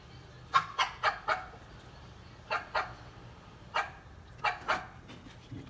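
A dog barks and yelps in short bursts, several quick calls in a row, then pauses and more cries, fairly close against quiet background noise.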